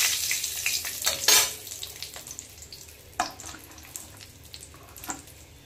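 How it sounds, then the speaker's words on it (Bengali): Dried red chillies and bay leaves dropped into hot mustard oil crackle and sizzle, with sharp spitting pops over a steady frying hiss, close and without talk. "তো এবার তেলটা ভালো করে গরম হয়ে গেছে, এতে আমি 2 শুকনো লঙ্কা 2 তেজপাতা দিলাম।"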